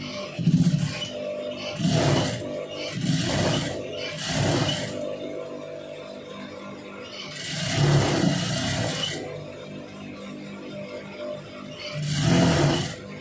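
A sewing machine stitches fabric close by in repeated bursts of whirring, about six runs separated by short pauses.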